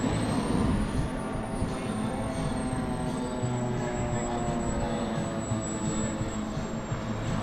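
A plane's engine drones steadily and loudly as the aircraft taxis toward the runway, with a constant high whine riding over the roar. People chat nearby.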